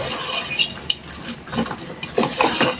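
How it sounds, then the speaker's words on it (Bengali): A spoon stirs coriander and chili powder into goat head meat in a pot, making intermittent scraping and clinking strokes up close. "আর ধনিয়ার গুঁড়ো দিয়ে দিব। দিয়ে একটু নেড়ে মাংসের সাথে মিশিয়ে নিব।"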